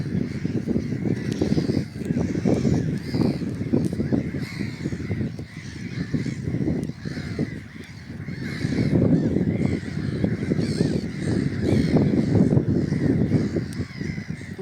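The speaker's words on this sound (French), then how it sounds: "Il y a beaucoup d'oiseaux, je ne connais pas cette variété" Large flocks of waterbirds call continuously at Lake Télamine, a dense chorus of caws and honking cries that rises and falls for the whole stretch, loud and close, with no talk.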